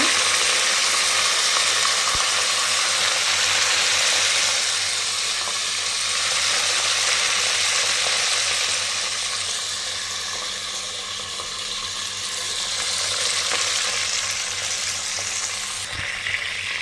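Mint leaves frying in hot oil for tomato rice make a loud, continuous hissing sizzle that swells and eases slightly throughout, with an occasional faint tap, and no talk.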